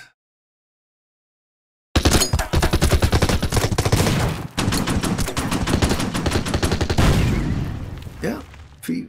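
Gunfire in the World War II strategy game Order of Battle at the Burma Road's Kawkareik Pass: after two seconds of silence, loud, sustained rapid automatic fire erupts and rattles almost without pause, with occasional talking underneath.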